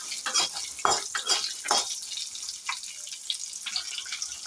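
Lentils and four small shallots roast in a pan for a pirandai chutney, with intermittent scraping stirs and a faint, uneven sizzle close by.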